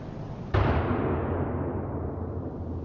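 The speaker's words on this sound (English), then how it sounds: "Was that a gunshot?" A single sharp gunshot cracks inside an abandoned factory, a sudden loud blast that rings into a long, slowly fading echo through the empty space.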